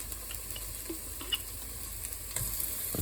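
A couple of spoons of tomato paste and softened shallots sizzle gently in a pan with a steady low hiss, broken by a few light taps and scrapes of stirring; nobody talks.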